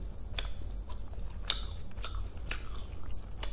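Crunchy bites and chewing on a flower-shaped strawberry marshmallow, several crisp close-up bursts in an uneven rhythm, heard alone without talk.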